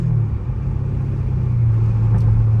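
A Dodge Scat Pack car's engine rumbles with a deep, loud, steady low drone, heard up close with the tone climbing slightly near the end.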